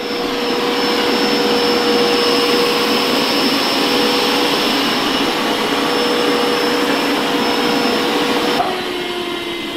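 A Dreame X50 Master robot vacuum cleaner runs on a carpet with a loud, continuous whooshing drone and a steady high whine, its tone dipping slightly near the end.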